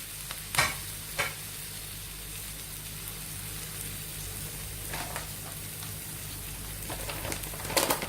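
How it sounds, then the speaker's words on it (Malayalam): A Spanish omelette fries steadily in a pan, giving a continuous soft sizzle with a few brief clinks or scrapes. No one speaks. "എന്നിട്ട് നമുക്ക് ഈ സൈഡും ഒന്നും കൂടി മുരിച്ചെടുക്കാം"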